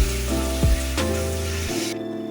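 Spices with ground cumin and ginger-garlic paste frying in a pan for a Bengali greens dish, giving a steady close sizzle with a few tonal clinks and scrapes of mixing over about two seconds.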